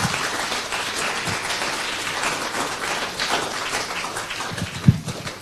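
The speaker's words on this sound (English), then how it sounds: "Another round of applause" An audience applauds a high school student presentation, a dense, even wash of clapping that holds steady throughout with no voices over it.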